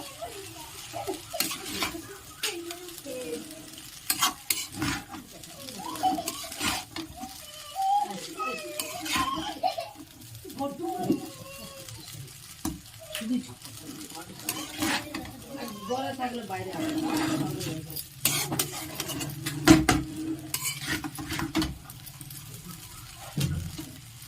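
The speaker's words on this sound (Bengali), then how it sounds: "ভালো করে সব উপকরণগুলো আমি একটু মিশিয়ে নেব।" Ingredients for street-style egg chowmein being stirred and tossed in a pan, with irregular metallic scrapes and clinks of a utensil while someone talks throughout.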